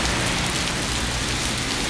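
Heavy, treacherous rain pours down steadily, a dense, loud, unbroken wash of drops hitting surfaces close by with no pauses.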